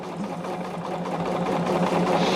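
A sewing machine runs steadily while stitching a fabric seam on a bag made with fusible grid, a continuous buzzing whir that holds an even pace and grows slightly louder toward the end.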